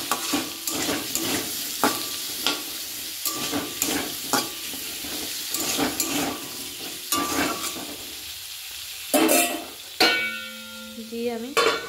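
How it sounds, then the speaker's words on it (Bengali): Raw pumpkin frying in a wok, stirred with repeated scraping strokes in a steady rhythm over a soft sizzle, close and moderately loud, with a brief clatter toward the end. "কাঁচা কুমড়োটা কড়াইতে দিয়ে ভালো করে ভেজে নেব।"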